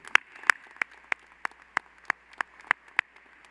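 A few slow, sharp handclaps at a university master's graduation ceremony, about ten spaced single claps at a steady rhythm, fairly faint and distant against a quiet room.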